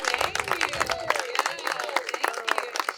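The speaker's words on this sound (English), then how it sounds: "Big round of applause for Home Depot." An audience at a volunteer appreciation event applauds briefly with scattered clapping, mixed with voices and crowd chatter throughout.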